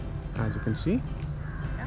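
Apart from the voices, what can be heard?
birds calling at coffee plantation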